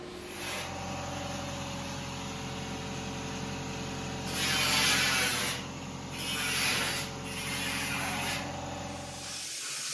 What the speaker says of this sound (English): I'm about to put the valve covers in the parts washer